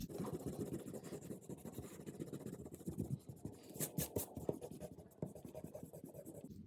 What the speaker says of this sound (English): now take your eraser and erase